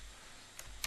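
A couple of quick, faint keystrokes on a computer keyboard in a quiet room, two soft clicks spaced under a second apart.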